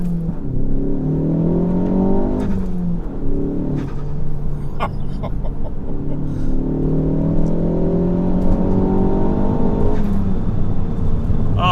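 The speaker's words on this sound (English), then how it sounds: "that intake noise and turbo flutter is very, very addictive" Ford Focus ST Mk4 tuned to Revo Stage 2 with 410 PS, accelerating hard with a loud rising intake and engine drone, climbing through gears with brief turbo flutter bursts between shifts, heard from inside the car.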